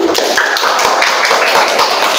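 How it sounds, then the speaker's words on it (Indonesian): Loud, dense clapping from an audience in a classroom group presentation setting, steady and close throughout, with a few faint voices underneath. "Berikan tepuk tangan"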